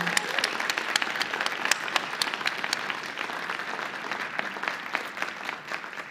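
An audience at an academic keynote lecture on linguistic anthropology applauds steadily, a dense, even patter of many hands without speech, fairly close and moderately loud throughout.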